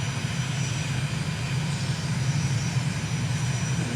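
A simulated aircraft engine in Microsoft Flight Simulator drones at a steady, constant pitch while climbing over the Abaco islands in the Bahamas, a continuous hum with no talk.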